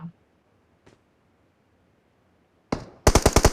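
Gunfire in the mobile battle royale game PUBG Mobile: a sharp burst followed by a rapid string of about six loud shots near the end, after mostly quiet moments.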